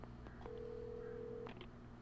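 A telephone is dialed in the video game Alan Wake Remastered: a few short keypad beeps, then a sustained steady tone lasting about a second, followed by more quick beeps, quiet over low background hum.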